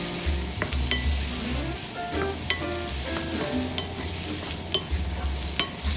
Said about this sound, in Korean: 그리고 방울토마토를 넣고 1, 2분간 더 볶아줍니다.